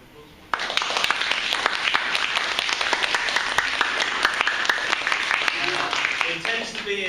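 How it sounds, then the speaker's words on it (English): An audience at a school theatre production breaks into applause, a burst of crisp clapping that starts suddenly and stays steady and close, with some murmuring voices underneath. "I'd like to give them a big round of applause."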